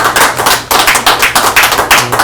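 Attendees at a climate emergency meeting applaud, dense close clapping in several rising and falling bursts with a short pause partway through.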